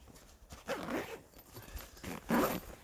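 Three quick rasping pulls of a cheap zipper open a round cooler bag, close and fairly quiet, against faint outdoor background noise on a canoe day trip with a dog.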